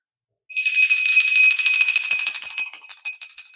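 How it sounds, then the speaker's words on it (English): A hand bell is rung rapidly and continuously after a moment of silence, giving a bright, metallic, high-pitched jangle. It stays loud and close for about three seconds, then begins to thin out. "I love ringing my bell."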